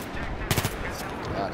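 Rifle gunfire in the Battlefield 3 video game: a quick, loud burst of several shots fired close together, with a low rumble of game ambience around it.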